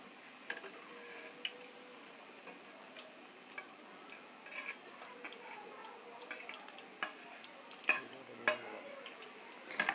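Frozen potato french fries fry in hot oil, a faint, steady sizzle scattered with small pops and crackles, heard alone without speech.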